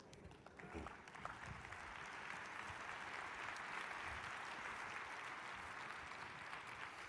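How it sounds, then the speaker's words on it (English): Audience at a motivational talk clapping along in unison, a steady distant wash of hand claps filling the room at low level, with a brief louder burst at the start. "I want you guys to emulate by clapping what I do."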